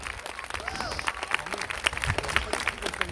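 Audience at an outdoor courtyard literary event applauds the writer Jurga Tumasonytė, a steady patter of many hands clapping throughout, with a voice or two faintly mixed in.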